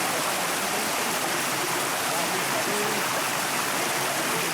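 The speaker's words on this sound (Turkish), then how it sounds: "Çarçay'ına denk geldiğimiz şelalenin buz tutmuş olduğunu gördük" Çar Çayı Waterfall in Muş, partly frozen over in winter, pours out a dense, constant rush of water that stays loud and even throughout.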